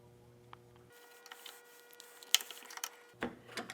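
On a 2024 Harley-Davidson Street Glide, a screwdriver pries the plastic inner fairing until its catch pops loose: faint creaks and small clicks, then one sharp snap, with a few softer clicks after.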